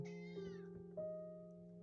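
A cat gives a drawn-out meow, a single clear call that bends in pitch and then trails off, heard close and alone over a faint steady hum.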